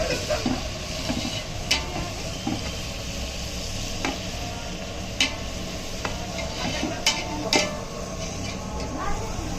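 Onions and tomatoes roast in a pan for Guntur-style dum biryani, giving a low steady sizzle with occasional scraping clicks of a stirring utensil, moderately close and fairly quiet throughout.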